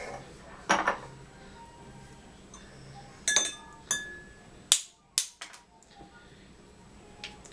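Ice cubes dropped into a cocktail mixing glass, a handful of sharp clinks and rattles spaced out over several seconds, close and fairly quiet, with a bright glassy ring on each drop.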